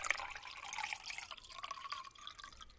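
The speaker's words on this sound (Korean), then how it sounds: "마이크로미터 구멍이 뚫린 거름망을 넣고 바닷물을 붓습니다." Seawater poured through a micrometer filter mesh makes a faint, continuous trickling and splashing, with small drips and bubbling that carry on steadily with no voices.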